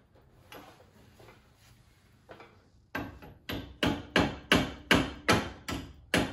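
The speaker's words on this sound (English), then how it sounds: "Now, I'm gonna put the pins in." Caliper pins go into a freshly painted brake caliper with a run of sharp metallic knocks, close and loud. A few faint taps come first, then the knocks repeat at an even, steady rhythm of about two per second.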